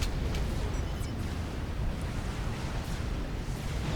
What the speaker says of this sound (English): Here comes the nuke.